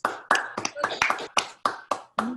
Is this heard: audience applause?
yes